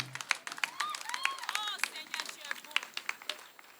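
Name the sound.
applause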